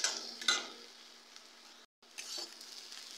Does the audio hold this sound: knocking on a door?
no